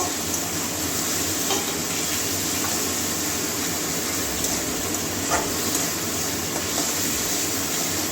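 Spices and masala sautéing in a pan for a Bengali snail curry with water spinach, heard as a dense, continuous hiss and sizzle with faint occasional clinks, steady and close throughout.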